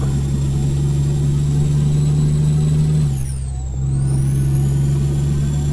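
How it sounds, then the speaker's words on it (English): A Kenworth K100 truck in Euro Truck Simulator 2 holds a loud steady drone with a high turbo whine. Partway through, the engine drops off briefly with a falling whistle, then the whine rises back as it picks up again. "Oh god, the turbo!"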